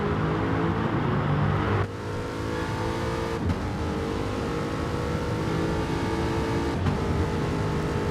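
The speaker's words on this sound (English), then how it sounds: "they're side by side in the fastest car in Australian motorsport" Supercars race cars screaming at full throttle in a sim racing game at Bathurst, several engines howling together close by, with a brief gear-change dip and steady roaring through to the end.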